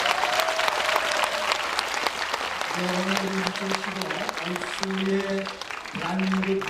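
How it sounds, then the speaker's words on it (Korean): A studio or event audience applauds during a Korean broadcast featuring a traditional pungmul performance. Sustained, moderately distant clapping runs throughout, with voices and a held musical tone sounding beneath the second half. "박수 한번 부탁해주세요."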